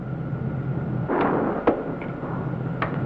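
Spaceship weapons fire in a 1950s science-fiction space adventure, heard as a broad rushing blast followed by a sharp crack and a couple of fainter zaps over a steady low engine hum.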